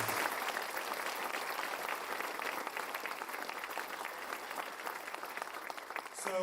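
An audience at a community ribbon-cutting ceremony claps in sustained, steady applause, moderately distant and even throughout before tapering at the end.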